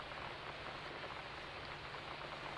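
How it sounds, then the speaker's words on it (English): Steady rain falls alone as an even, soft hiss at a moderate level, with no gusts or breaks. "There's something just weirdly calm about rain."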